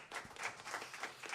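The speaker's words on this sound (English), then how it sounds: "Applaus für Michel hier." Crowd applause at a live tribute concert in Hamburg, a short burst of dense clapping, moderately faint and distant.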